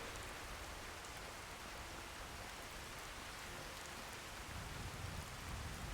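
Steady hissing rain in Skyrim with atmospheric weather mods fills the whole stretch, with a low rumble of thunder starting to swell near the end.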